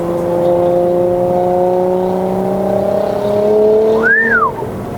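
A BYD Atto 3 electric car accelerating hard from 0 to 100 in Sport mode, its motor giving a loud, steady rising whine that climbs in pitch with a brief swooping tone near the end.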